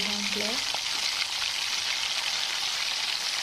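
Ponganalu batter frying in hot oil in a paniyaram pan, a steady loud sizzle that fills the whole stretch, with a few spoken words at the start.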